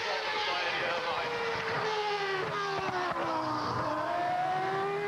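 Eddie Irvine's Jaguar Formula One car at the Goodwood Festival of Speed hill climb, its high engine whine holding a steady, slowly falling pitch for several seconds with a loud, continuous, close drone.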